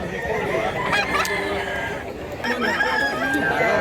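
Chickens and roosters at a Mantalungon, Cebu market, with clucks and crowing calls coming and going over busy crowd chatter and people talking nearby.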